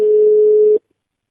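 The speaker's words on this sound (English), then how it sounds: "The line rings for a while." A telephone line rings once, one steady sustained ringback tone lasting under a second before cutting off into silence, close and clear.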